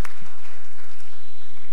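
Brief burst of audience applause welcoming panelists at a 2018 WWF climate action conference panel discussion, a steady dense clapping texture filling the short moment.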